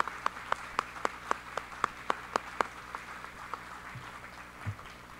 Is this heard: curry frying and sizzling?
no